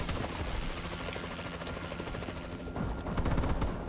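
An enemy warbird gunship hovers overhead in Call of Duty: Advanced Warfare, its steady rotor-like roar mixed with bursts of gunfire that swell louder near the end, with no talk.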